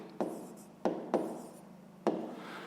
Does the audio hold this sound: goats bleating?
no